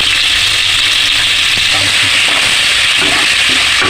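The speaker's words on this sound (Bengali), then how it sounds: "কিছুক্ষণ ধরে একটু নাড়াচাড়া দিয়ে নেবো" Chopped tomatoes with a little salt fry in hot oil over spice tempering, a loud steady sizzle with soft scraping as they are stirred in the pan.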